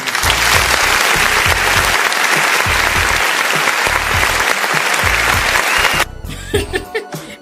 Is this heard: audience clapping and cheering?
yes